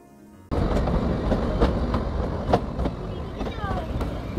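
A Shimla to Kalka narrow-gauge train on a mountain railway rumbles along the rails, with steady wheel clatter, sharp clicks and a few squeals starting abruptly after a brief quiet moment.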